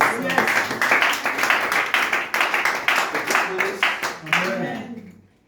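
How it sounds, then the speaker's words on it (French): A church congregation claps in quick rhythmic bursts to acclaim the Lord, the steady beats sitting under loud voices and fading out at the end. "Acclamons très fort le Seigneur."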